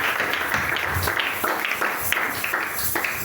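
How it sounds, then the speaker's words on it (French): A church congregation claps together after a call to applaud, a dense, steady wash of many hands with a few stronger beats, filling the whole moment at close range without talk. "Applaudissez une fois pour le Seigneur Jésus-Christ."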